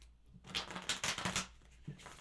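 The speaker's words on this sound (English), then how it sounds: "A couple of shuffles for Cancer." Tarot cards being shuffled by hand, a quick series of crisp riffling and slapping bursts close up, brief rapid flutters followed by a softer tap, with no voices.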